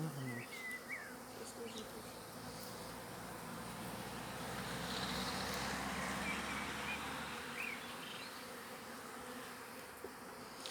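Honey bees hum around an open hive as it is moved from a small nucleus box into a full hive, a steady close swarm buzz with no voices.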